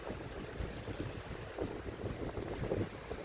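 Wind buffets the microphone in low, gusty rumbles, with a faint hiss of water in the background.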